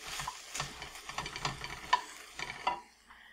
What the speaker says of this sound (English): we're going to cook about a half a pound of ground beef